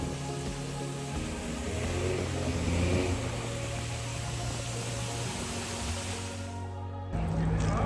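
Car driven fast along a road in Thailand, a continuous rushing engine and road noise with broad wind-like hiss heard from inside, shifting in pitch, steady and moderately loud, ending in a brief drop before resuming.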